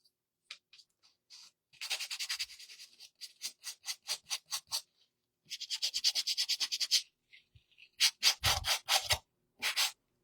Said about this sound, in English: I'm sanding the edge of the cardboard.